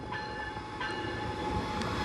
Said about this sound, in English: here's Capital Corridor train 543 departing 5 minutes early at 5:15 p.m.